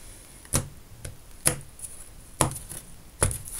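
A tarot deck is cut by hand, giving four crisp, close card snaps at roughly one-second intervals over faint background noise.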